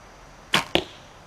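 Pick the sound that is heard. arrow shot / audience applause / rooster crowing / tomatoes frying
arrow shot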